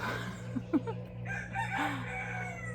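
A rooster crows and hens cluck briefly at a moderate distance over a low steady hum, around 5:30 in the morning.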